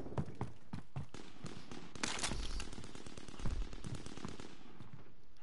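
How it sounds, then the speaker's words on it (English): Rapid gunfire bursts from Call of Duty: Warzone crackle through the whole span, dense sharp shots with a louder cluster midway, heard as steady game combat rather than distant pops. "I hear gunfire."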